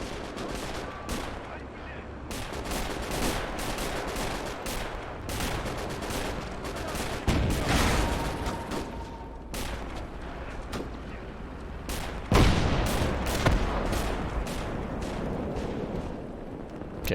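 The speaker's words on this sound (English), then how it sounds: "KV-1 is showing a beautiful side shot here to the AT gun" A KV-1 tank and an anti-tank gun fire in a Gates of Hell World War II battle, with dense cracking gunfire, heavy booms and rattling bursts throughout and a sharper blast about two-thirds through.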